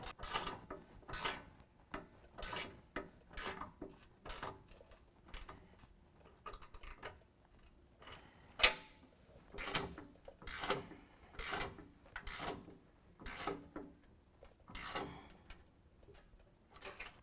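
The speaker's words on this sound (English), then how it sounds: "Now we're going to tighten down our 2 Allen head bolts. That's going to be an 18mm wrench on the nut and a 10mm Allen head at the top." Two Allen head bolts are tightened with an 18mm wrench on the nut and a 10mm Allen key while a rear bumper is fitted to a 2017 Ram 1500, giving a steady run of faint ratcheting clicks in a regular rhythm.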